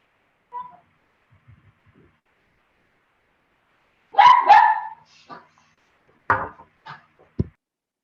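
A puppy barks indoors at a community forum in a few short, sharp bursts separated by quiet pauses, moderately close, with a faint yip or two in between.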